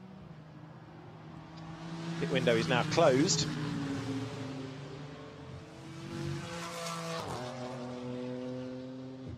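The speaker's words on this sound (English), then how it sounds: "The cars come through together." GT4 race cars sweep past together at the Imola circuit, their engines swelling loudly then fading as they go by. A commentator speaks over the roar throughout.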